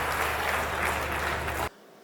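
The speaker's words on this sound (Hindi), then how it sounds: "मैं चाहता हूं एक बार जोरदार तालियां बजाइए भाई सरदार" A loud, dense burst of audience applause at a Hindi comedy poetry show, a thick continuous wash of clapping that cuts off abruptly after under two seconds, leaving near silence.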